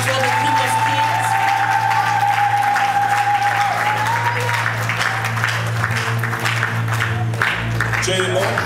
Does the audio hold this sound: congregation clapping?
yes